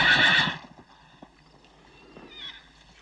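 Horses whinny loudly up close in a western frontier setting, a strong neigh at the start followed by softer snorts and a few scattered hoof clops on the ground.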